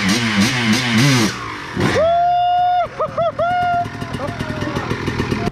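A dirt bike engine on freeride trails revs hard on throttle, rising and falling in sharp close bursts that then settle into a ragged, loud drone, with voices heard near the start.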